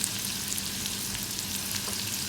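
Onions stir-fried in a hot pan for Thai sweet pork, giving a loud, steady, close sizzle that runs without a break, with no speech.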